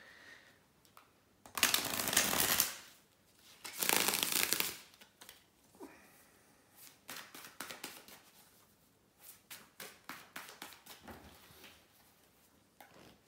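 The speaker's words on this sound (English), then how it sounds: "just give me a second here to shuffle the tarot cards" Tarot cards are shuffled in two loud riffling bursts, followed by a series of quicker, softer taps and slides of cards being cut and squared.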